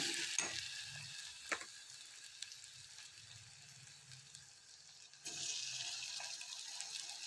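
A ginger-salt and garlic-coriander paste is stirred and mixed in a frying pan with a soft, steady sizzle, broken by occasional scraping and knocks of the spoon against the pan, quiet and close.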